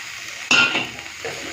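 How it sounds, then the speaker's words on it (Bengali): Flat bean paste with chopped coriander fries and is stirred in a pan, giving a short, close burst of sizzling and a spatula scrape over a low frying hiss. "মিশিয়ে মিশিয়ে তারপর নামিয়ে ফেলবো"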